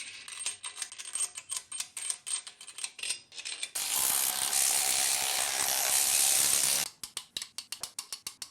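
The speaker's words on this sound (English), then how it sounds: "let's torque them down and check the spec" Torque wrench ratcheting in quick clicking bursts while tightening main bearing caps on a BMW X5 engine, with a sustained loud burst midway, then more rhythmic clicks, close and alone.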